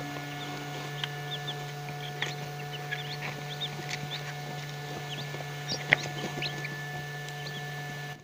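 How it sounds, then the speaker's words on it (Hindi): Newly hatched chicks peep in an egg incubator, giving a scatter of high, quick chirps over a steady machine hum, close and moderate in level throughout. "किस दिन बाद एक एक करके कितने प्यारे प्यारे चिक्स निकल आए हैं"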